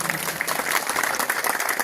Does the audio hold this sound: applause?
yes